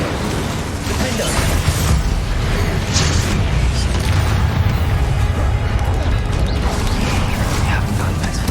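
Bombarda and Confringo spell explosions in the Hogwarts Legacy video game form a dense, continuous roar of booms, crashes and crackling impacts, loud and unbroken throughout with a game soundtrack underneath.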